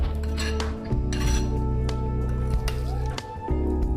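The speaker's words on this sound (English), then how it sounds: "You can mix it with spoon or fork or whisk it nicely." Spoon mixing amrakhand with cardamom in a bowl: repeated clinks and scrapes of the spoon against the bowl, close and steady, over a low background hum.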